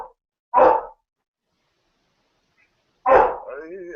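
A dog barks twice, each a loud, short burst, about two and a half seconds apart, with silence in between and a brief trailing whine after the second bark.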